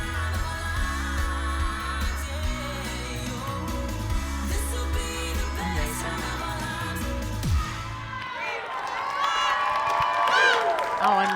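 Spectators at a stunt show cheer and clap in a steady, loud roar, blended with music and scattered voices, swelling a little louder toward the end.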